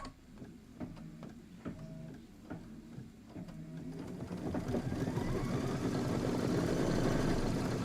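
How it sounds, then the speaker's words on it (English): An embroidery machine stitching a quilt block, first with spaced mechanical ticks and short whirs, then settling into a steady, continuous rapid chatter as it runs the outer satin stitch; a brief voice is heard at the start. "And now it's going to do the outer satin stitch."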